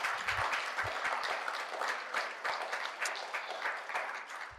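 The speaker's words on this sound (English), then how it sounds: "Let's give him a clap offering this morning." A church congregation claps during a Sunday morning service, a full, slightly uneven applause with individual hand claps audible, sustained and fairly close.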